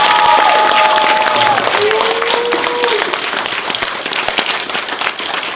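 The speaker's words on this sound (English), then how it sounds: "Can y'all give them a round of applause for the camera?" A panel audience bursts into loud applause with whoops and cheers, dense clapping close by; a few high whistles or shouts rise early, then the clapping continues and thins slightly toward the end.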